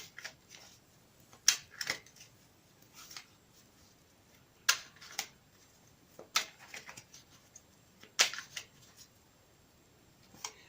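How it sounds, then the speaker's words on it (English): Tarot cards are riffled and snapped in quick bursts, several brisk crisp shuffles repeating at irregular intervals, close and fairly quiet, with no talking. "I'll shuffle them again for you on camera"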